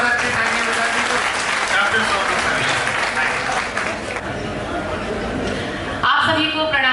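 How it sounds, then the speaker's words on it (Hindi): A poetry gathering's audience claps warmly to welcome a poet, a full and steady round of applause that thins slightly before a voice begins speaking near the end. "थोड़ा स्वागत की और अच्छी तालियां बजा दीजिए।"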